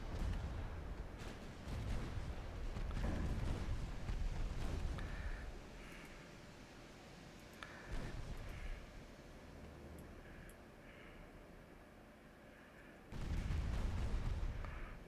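Warship guns boom in a naval battle in Ultimate Admiral Dreadnoughts. Heavy, rumbling salvos roll through the first seconds, a quieter stretch with a single thud follows, and another loud burst of gunfire arrives near the end.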